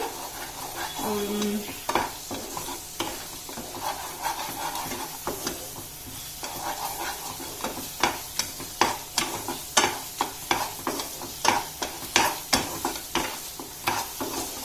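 Custard halwa being stirred in a pan, with soft bubbling sizzle and a run of repeated scraping strokes that grow sharper and more regular toward the end, heard alone.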